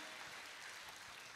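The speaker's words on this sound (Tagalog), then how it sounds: "Sige ngayon, yung palakpak na may passion, may apoy, may gusto mangyari," A congregation at a Sunday church service claps steadily. The applause is faint and even throughout the short moment.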